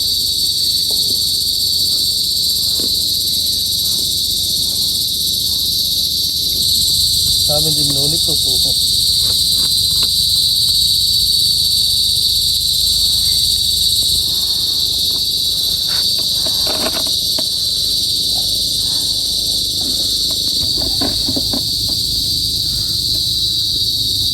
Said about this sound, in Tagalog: Dito po maraming kuliglig eh.